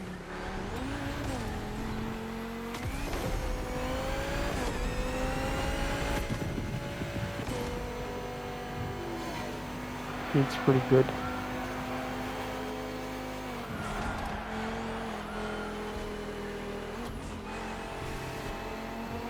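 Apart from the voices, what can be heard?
car driving in the racing video game The Crew Motorfest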